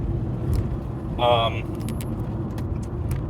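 Interior of a car driving with the windows rolled up, a steady low road and engine rumble close by, with a brief tonal chime and small clicks over it.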